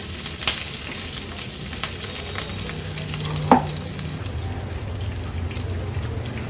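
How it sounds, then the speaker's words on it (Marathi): Curry leaves and green chillies fry in oil over a low gas flame with a soft, steady sizzle. A single sharp clink of a utensil cuts through partway, and scattered light pops follow. No voice is heard. "नंतर ही कढीपत्त्याची पानं हिरवी मिरची गॅसची फ्लेम लो करून घेते आणि लो फ्लेमवरच व्यवस्थित मिरची आपल्याला परतून घ्यायची आहे"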